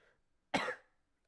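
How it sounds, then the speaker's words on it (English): A single short, sharp cough, close and alone in a quiet room. "Sorry for the cough."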